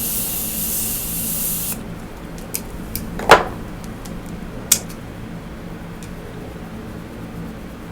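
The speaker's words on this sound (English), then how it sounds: "I'm gonna go ahead and spritz my face one more time with the Morphe setting spray" A hissing burst of Morphe setting spray spritzed onto a face fires for about two seconds, followed by a few faint clicks and taps in a quiet room.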